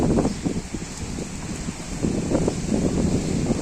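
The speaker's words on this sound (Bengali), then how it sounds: "এবং ঝড়ো বাতাস আছে" Stormy wind from Cyclone Remal sweeps through waterlogged Old Dhaka, buffeting the microphone in loud, uneven low rumbling gusts that swell and ease over a few seconds, with no talking.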